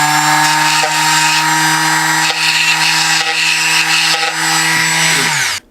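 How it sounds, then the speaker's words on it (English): Coarse-grit sandpaper works the wooden F-hole of an F-style cellotar, making a loud, steady, continuous abrasive rasp with slight rhythmic strokes that stops abruptly at the end. "I got my roughest sandpaper grit"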